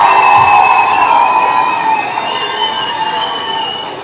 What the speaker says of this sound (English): Let's give the beautiful Bounce a round of applause.